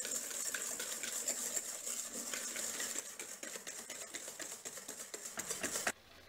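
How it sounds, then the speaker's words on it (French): Egg yolks beaten with sugar until pale for a chocolate caramel crème brûlée Yule log, a rapid steady patter of whisk strokes against a bowl, close and continuous, then stopping abruptly near the end. "on fouette les jaunes avec le sucre jusqu'à ce que le mélange blanchisse"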